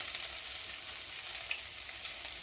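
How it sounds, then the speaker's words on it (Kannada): Garlic paste frying in a pan for a Bijapur-style chicken dish, a dense, even sizzle holding steady throughout with a faint stir partway through. "ಬೆಳ್ಳುಳ್ಳಿ ಪೇಸ್ಟ್ ಮಾಡಿರ್ತೀವಲ್ಲ ಅದನ್ನು ಹಾಕಬೇಕು. ಚೆನ್ನಾಗಿ ಫ್ರೈ ಆಗಬೇಕದು."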